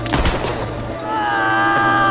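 A burst of gunfire from the action film 211 opens with sharp, close shots in quick succession, then fades into a sustained tonal ringing and background score.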